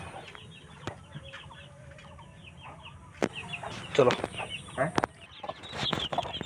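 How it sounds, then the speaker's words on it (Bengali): A caged adult fowl with a small brood of eight to ten chicks clucks and peeps in scattered bursts, close by, with a few wing or cage rattles and a brief spoken word. "এই যে খাঁচার ভিতরে আছে এই যে ধাড়ি মোরগটা, তার কাছে কয়েকটা বাচ্চা"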